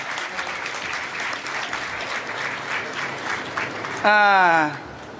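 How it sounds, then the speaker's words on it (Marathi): An audience claps at a birthday event, a steady wash of applause that runs for several seconds before a single loud voice cuts in briefly near the end. "एकदा टाळ्या आता तुमच्याच आहेत ना त्या"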